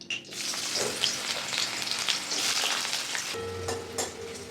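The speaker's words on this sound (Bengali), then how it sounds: "এবার উচ্ছেগুলো ভাজবো।" Long strips of bitter gourd frying in oil in a wok give a dense, steady sizzle up close, with a brief clatter and a quieter, lower bubbling toward the end; no voices.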